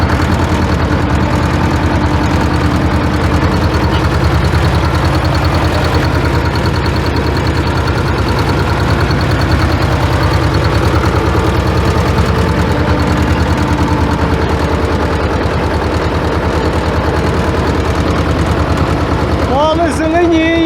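A vehicle spreading liquid manure on a potato field drives along with its engine droning loud and steady, a constant low rumble and vibration throughout.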